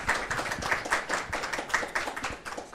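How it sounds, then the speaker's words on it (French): Applause from an audience at a seminar on humanity, space science and ethics, dense steady clapping with no voices, moderately loud and even throughout. "On peut peut-être l'applaudir."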